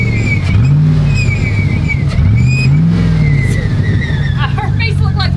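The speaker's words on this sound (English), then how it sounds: "That blower whine?" Supercharger whine from an LS-engined truck rises and falls in pitch with repeated revs, a loud close engine roar under it, and someone talking over the sound.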